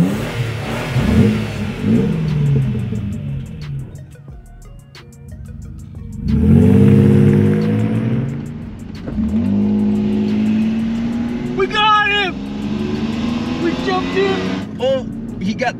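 A Toyota Tacoma pickup truck's engine revs and accelerates hard, its pitch climbing in repeated sweeps, while voices talk excitedly over it.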